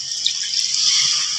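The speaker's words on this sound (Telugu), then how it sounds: "కూరకు సరిపడా నీళ్ళు వేస్తున్నాయండి." Water poured into a pan of egg masala curry, a steady hissing splash that runs unbroken for the full moment with no voices.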